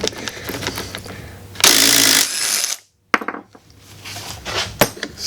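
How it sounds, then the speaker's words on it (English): A DeWalt impact wrench loosening a 17 mm nut on an Isuzu Stylus camber plate fires one loud, harsh burst of about half a second, followed by a brief silence and scattered close metallic clinks. "Crack it open with the DeWalt."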